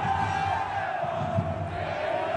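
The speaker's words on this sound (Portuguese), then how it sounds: "a torcida que tanto se lamentou pode soltar o grito" Fortaleza football fans roar and shout together in a packed stadium at a 2015 Copa do Nordeste match against River-PI, a loud, continuous crowd din with chant-like tones throughout.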